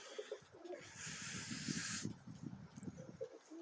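Zamojski pigeons coo softly and repeatedly at close range, low rolling calls overlapping outdoors, with a brief hissy rush of air or wings in the middle, no talk.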